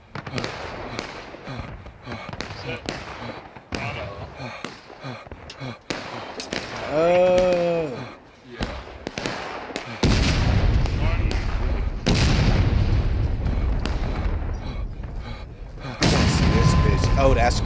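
Cannons and gunfire boom repeatedly in a large-scale Civil War PvP video game battle, with loud irregular blasts and crackling volleys mixed with other game sounds and a player talking.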